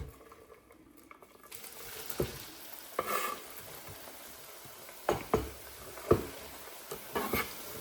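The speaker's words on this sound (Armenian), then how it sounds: "թողնում ենք, որպեսզի սոխառածը տապակվի, մի փոքր տապակվի" Chopped onions fry in hot vegetable oil with a continuous close sizzle, while a spoon stirring the pan adds scattered scrapes and clicks.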